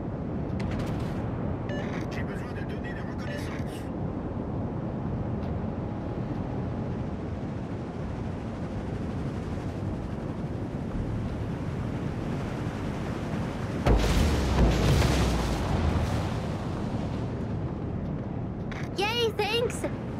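Distant naval artillery barrage in World of Warships: Legends, with a heavy boom rumbling mid-clip over a constant engine and sea drone, plus scattered game effects; a voice speaks over it.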